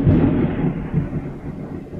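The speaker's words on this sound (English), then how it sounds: "I heard a beep and then a real loud thunderclap." A loud, close thunderclap rolls out in the King's Quest 6 video game, starting with a heavy low crack and then fading into a deep rumble over about two seconds, with no voices.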